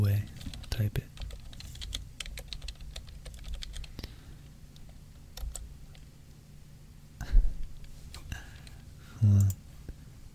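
Typing on a computer keyboard while coding batch scripts in CMD.exe, a steady run of close, soft key clicks with a few louder thumps, and brief soft-spoken talk mixed in.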